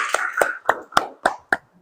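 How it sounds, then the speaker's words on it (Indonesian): A small group claps for a class group in a school setting, about seven sharp, separate claps in an uneven rhythm, close and fairly quiet, fading out after under two seconds. "Tepuk tangan untuk kelompok 3."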